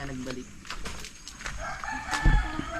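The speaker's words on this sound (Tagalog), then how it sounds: "dito na yung manok na kulay ginto." A golden-colored rooster crows in a rural yard in the afternoon, with clucking fowl nearby and people chatting in the background.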